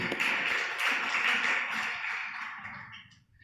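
A church congregation applauds in a dense burst of clapping that fills the space, holding steady for a few seconds before tapering off and dying away near the end.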